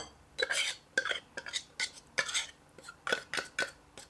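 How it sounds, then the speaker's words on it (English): A fork scrapes and clinks against a bowl while fluffing and breaking up tuna pieces, in a steady series of short metallic strokes, close and fairly quiet. "I'm gonna take a fork to just kind of fluff up and break up some of those tuna pieces"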